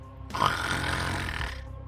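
A voice imitates a big, drawn-out snore for a sleeping character during a fantasy tabletop role-play session, one rasping, guttural breath lasting over a second, close and loud with no talk.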